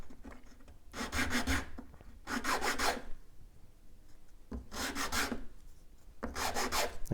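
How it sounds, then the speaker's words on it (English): Wooden rosette tiles for a classical or flamenco guitar being sanded by hand, with four distinct back-and-forth rasping bursts separated by short pauses, close and clear with no talk. "I don't want to sand too much because I don't want to lose the dimension that we have here."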